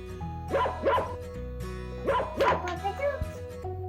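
Two dogs or puppies bark in quick yapping pairs, two bursts near the start and two more around the middle, close and clear over a continuous musical background.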